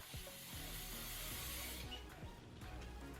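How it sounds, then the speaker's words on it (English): Hairspray is sprayed onto eyebrows, giving a close, soft continuous hiss of aerosol lasting under two seconds before it stops, set against a faint background hum. "And then just some hairspray."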